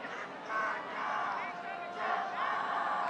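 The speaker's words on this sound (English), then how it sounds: "And the Central crowd really getting into it" Home crowd at a Kansas high school football game roaring and whooping, swelling in two waves of cheering voices heard from a moderate distance.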